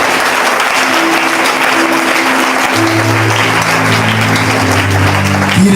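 A church congregation applauds in a steady, dense wash of clapping that lasts throughout, with sustained organ or keyboard notes playing underneath.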